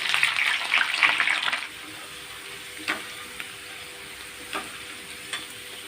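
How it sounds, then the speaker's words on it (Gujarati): Green chillies fry in hot oil until crisp, giving a bright steady sizzle that dies away after a second or two, followed by a quiet stretch with a few faint pops and clinks. "આ રીતના મરચાંને આપણે એકદમ સરસ કડક થઈને ત્યાં સુધી આપણે તળી લઈશું"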